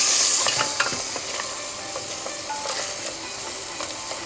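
Yogurt-based rogan josh sautéing in oil as it is stirred, a steady close sizzle with scattered scraping clicks from the spoon, louder at the start and then settling.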